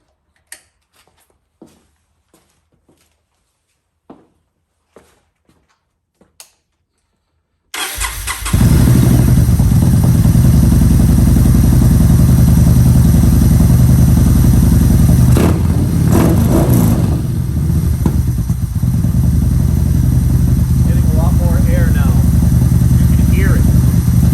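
Several soft clicks and taps, then a Yamaha Bolt motorcycle engine fitted with a Cobra air intake fires up and settles into a loud, steady idle with a rough, throbbing rumble.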